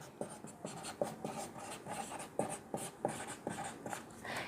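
Pen or pencil scratching on paper while an equation is worked out by hand in a class 10 maths lesson, with steady strokes and a few sharp taps, close and moderately loud, no talking.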